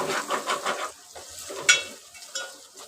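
Spices are fried in a pan for a chicken rassa, heard as a close sizzle with scraping stirs and a few utensil clinks, louder at first and thinning out, with no voices.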